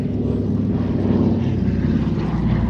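A DC-3 propeller plane flying over an air festival gives a steady, loud, low engine drone that holds for the whole stretch, with no voices.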